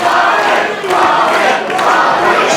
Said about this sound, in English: Listen to the crowd here, Olsen.